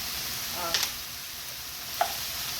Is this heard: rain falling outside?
no